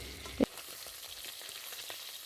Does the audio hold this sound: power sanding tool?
no